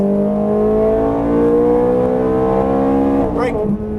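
A Ferrari 430 Scuderia's engine pulls hard on a race track, a loud, steady, buzzing drone that climbs in pitch before a sudden gear change near the end.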